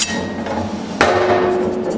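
Mild steel sheet struck by hand with a hammer while hollowing and dishing a curved form: a single loud, close metallic blow rings out midway and decays slowly over quiet workshop background.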